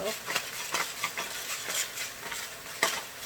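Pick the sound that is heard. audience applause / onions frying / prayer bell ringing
onions frying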